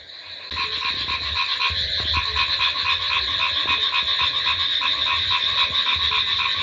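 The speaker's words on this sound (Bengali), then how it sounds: "পাঁচ মিনিট বাইরে গিয়ে দাঁড়ালে পুরো মাথা ধরে যাচ্ছে এত পরিমাণে ব্যাং ডাকছে" A dense chorus of frogs croaks at night in the monsoon season, a loud, steady, overlapping pulsing drone that continues without a break after a brief quiet start.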